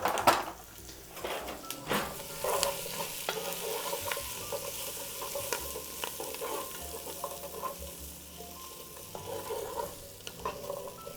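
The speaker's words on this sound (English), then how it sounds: "Now we're just gonna let the vegetables roast" Vegetables roasting and sizzling in a hot pan while being stirred, with a steady close frying hiss and scattered scraping taps of a utensil throughout.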